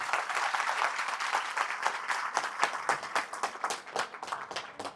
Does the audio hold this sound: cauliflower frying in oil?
no